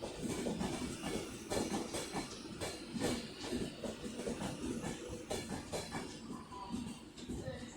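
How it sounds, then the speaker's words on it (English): A train pulls into Manchester Piccadilly station on the West Coast Main Line, a steady rolling rumble with rhythmic wheel clatter and faint hiss, moderately distant and unbroken by talk. "Yes, another train coming in."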